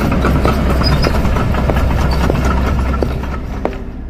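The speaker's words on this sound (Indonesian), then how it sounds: "Hidupin lagi mesinnya." Machine engine running on its own at a steady low rumble with faint clanks, loud and near, gradually easing off toward the end.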